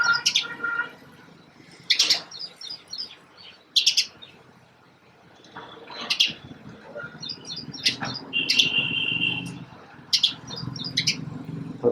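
House sparrows chirp in short bright bursts every couple of seconds, close by among potted plants, over a faint low background hum.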